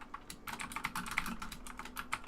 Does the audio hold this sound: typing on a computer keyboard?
yes